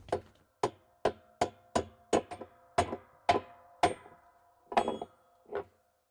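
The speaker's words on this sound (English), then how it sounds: "I'm going to use the spanner wrench. I'm going to place it onto the nut. And I'm going to use this nice mallet. I'm going to tighten it." Mallet striking a spanner wrench to tighten the nut on a Whirlpool/KitchenAid/Maytag washer gearcase: about ten sharp metallic knocks with a brief ringing tone, close and clear in a quiet room, irregularly spaced, no talking.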